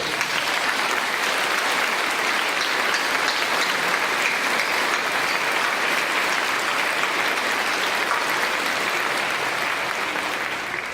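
Audience applause at a corporate brand launch, dense, loud and even clapping from a large crowd that continues without a break.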